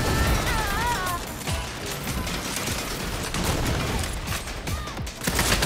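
Rapid gunfire from snipers being shot down in Saints Row, bursts of shots and mechanical clatter mixed with crashing impacts, continuous and fairly dense throughout at moderate loudness.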